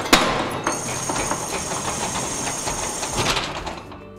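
A conventional fire door closing during a demonstration, with a sharp initial bang, a sustained metallic hum and rattling as it moves, then a final knock before it settles.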